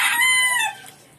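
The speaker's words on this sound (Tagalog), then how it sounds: "Ingay ng manok." A rooster crows loudly and close by, one drawn-out call that fades away within about a second.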